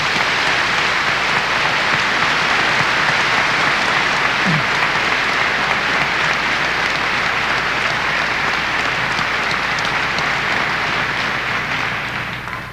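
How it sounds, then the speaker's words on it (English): A large convocation audience applauds graduating students, steady dense clapping filling the hall at full volume and tapering slightly at the end. "I'd like everyone to join with me in applauding the students"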